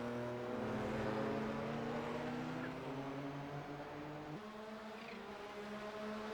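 Race cars in a Kamel GT Championship round at the Brands Hatch Grand Prix circuit, their engines droning loudly and steadily as they lap, with the pitch sliding down and then shifting as cars pass.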